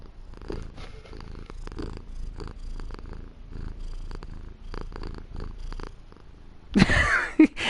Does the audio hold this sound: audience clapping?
no